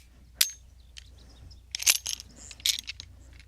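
Metallic clacks from a Kimber Solo pistol as its slide is dropped: one sharp snap, then a cluster of close, bright clicks and rattles about a second later.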